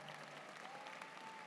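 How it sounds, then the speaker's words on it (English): Audience applause at a law school commencement ceremony, a steady, moderately distant wash of clapping from a large crowd, brief and even in level. "Give him an applause for that."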